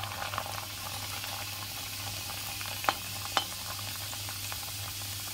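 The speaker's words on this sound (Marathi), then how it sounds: "ते तळून घेऊया." Kadakani dough ornaments, bangles among them, frying in oil over a low gas flame for a Navratri recipe, giving a steady soft sizzle with a couple of brief sharp pops partway through.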